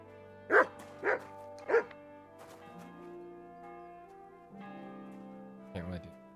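Dog in Kingdom Come: Deliverance 2 giving three sharp, loud barks in quick succession, then a sustained droning musical tone and one more short yelp near the end.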